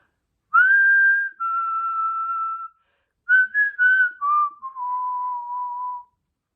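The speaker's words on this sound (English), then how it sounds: "he started whistling the first song that came into his head, which happened to be the theme to the 1950s TV show" A lone person whistles the theme song of the 1950s TV show Lassie, a clear, close melody of sustained notes in two short phrases with a pause between, with no other sound around it.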